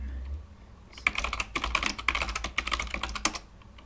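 A password typed on a computer keyboard while logging in over SSH, a rapid burst of close, crisp keystrokes after a brief quiet start, without talking.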